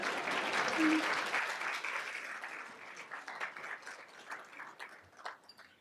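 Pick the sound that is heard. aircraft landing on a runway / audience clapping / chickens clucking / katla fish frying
audience clapping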